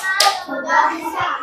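Hands clapping in a children's clap-along game with a teacher, a quick run of claps in rhythmic patterns, close and fairly loud, with faint voices mixed in.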